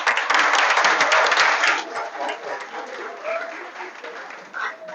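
An audience at a Swami Vivekananda Jayanti dance-drama celebration breaks into loud applause, dense clapping that stays strong for about two seconds and then thins and fades.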